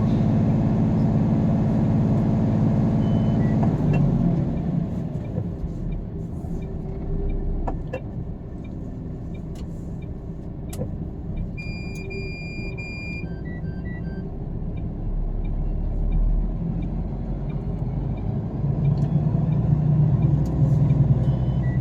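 A UAE truck with charged air brakes idles with a heavy low rumble, then pulls away, its engine swelling; faint high beeps sound midway.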